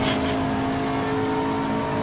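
A race car engine in Assetto Corsa Competizione drones loudly and steadily at high revs, a sustained close whine from the cockpit with another car nearby.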